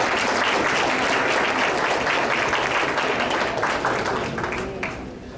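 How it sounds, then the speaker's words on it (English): A large crowd applauds steadily, dense clapping holding strong throughout and only easing slightly toward the end. "Let's give a round of applause for Leanne Twit."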